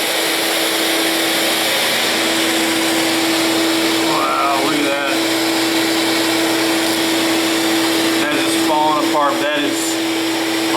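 A bee removal vacuum runs with a steady, loud whir and hum throughout, a low tonal drone under broadband rushing air, while bees buzz faintly in brief passes and a voice is heard briefly.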